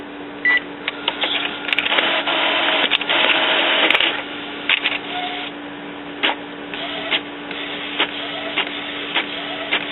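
An Epson XP-600 inkjet printer fitted with a continuous ink supply system runs a print job, giving mechanical whirring and rhythmic clicking feed strokes with short pauses, close and fairly loud, no voices.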